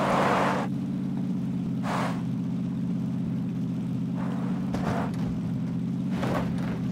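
A car driven in the battle royale game PUBG, its engine a steady mid-pitched drone with repeated brief hissing bursts over it.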